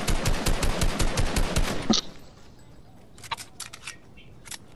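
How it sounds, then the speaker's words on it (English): Rapid automatic gunfire from the video game Fortnite, a dense burst of loud shots for about two seconds, then scattered sharper single shots at a distance. "Stop shooting!"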